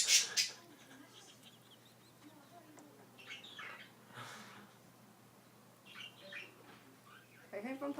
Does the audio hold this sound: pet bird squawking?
yes